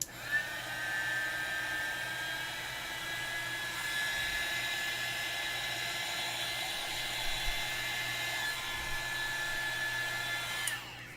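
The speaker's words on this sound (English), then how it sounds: "Can also use a little bit of a heat gun to speed it up." A heat gun blows steadily as it dries alcohol marker ink on a coloring page, giving an even, continuous whirring hiss that runs throughout with no talk.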